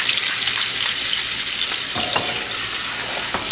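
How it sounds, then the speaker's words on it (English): Food frying in a pan with salt and cracked pepper, a steady close sizzle broken by a couple of scraping stir strokes from a utensil. "Give this a little stir"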